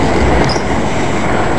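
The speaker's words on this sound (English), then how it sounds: "Again, it's a frickin' long train." A very long freight train, over a mile, rolls past close by near Staunton, loud continuous rumble of wagons and wheels with a brief high squeal, no voices.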